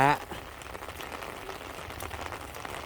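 Midday rain falls steadily over rice-planting fields, a soft even hiss that continues after a brief voice is heard at the very start.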